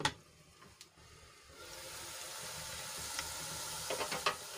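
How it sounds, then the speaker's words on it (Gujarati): Onions fry in a covered pan, opening with a few sharp knocks before a soft, steady sizzle swells and holds, with light clicks near the end; no talking. "તો ડુંગળીને આપણે ગુલાબી રંગની થાય ત્યાં સુધી ઢાંકીને ચડવા દઈશું"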